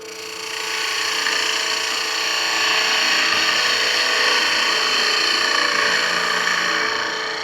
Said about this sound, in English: Let's just show the difference between a Skew slicing cut and the 40/40. See what kind of end grain surface we get.